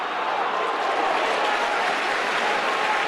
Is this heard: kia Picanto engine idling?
no